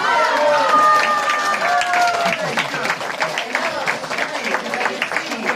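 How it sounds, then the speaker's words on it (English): Audience at an alligator show in Florida claps in a scattered, uneven patter, with a voice talking over the start before the applause carries on alone at moderate loudness. "why are we clapping for alligators?"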